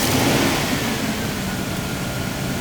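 Ford Explorer engine just after a radiator replacement, running at a steady idle with a slight rev at the start, close and fairly quiet, no talking.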